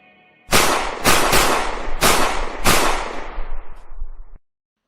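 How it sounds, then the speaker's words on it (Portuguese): Rapid burst of gunshots fired by two men on a motorcycle at a house gate, several sharp loud cracks in quick succession followed by a denser volley, close and with no talking. "Onze tiros."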